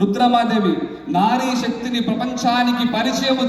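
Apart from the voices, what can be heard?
No everyday noise stands out behind the speech.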